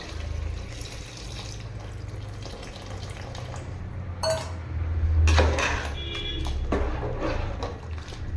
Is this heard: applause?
no